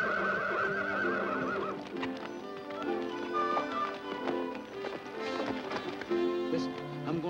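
A horse gallops in a classic Western film scene, hoofbeats tapping under a bed of orchestral music, with a whinny heard early on; the sound is moderately loud and mixed beneath the score.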